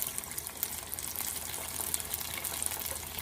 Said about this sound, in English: Here's some nice frying noises.